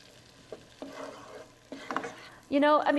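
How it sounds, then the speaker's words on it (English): Food for a corn casserole hitting a hot pan, with scattered scraping and clattering stirring noises that build into a louder sizzle and clank at the end, fairly close. "Let's go ahead and saute it."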